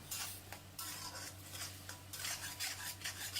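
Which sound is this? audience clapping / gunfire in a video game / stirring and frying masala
stirring and frying masala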